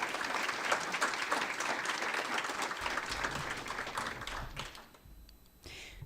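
Audience at a college journal publication debut applauding, a dense patter of clapping that holds steady for several seconds, then thins and fades out, leaving a brief quieter tail with faint room noise.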